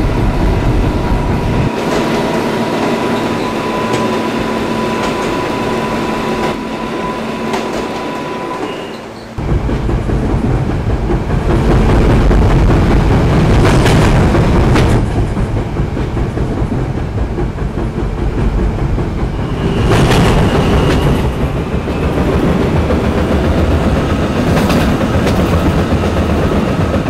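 A New York City subway R160B B train rumbles loudly and steadily along the tracks, with rhythmic clatter and occasional brighter metallic squeals rising over the continuous roar.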